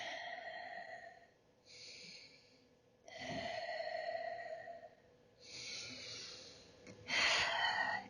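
Slow, deep breaths during a gentle yoga flow, soft inhales and airy exhales rising and falling in a relaxed rhythm, close and quiet.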